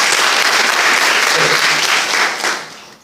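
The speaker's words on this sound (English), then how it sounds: "Clap for you." Sustained applause from a polytechnic college audience, loud and dense for most of the burst before thinning out at the end.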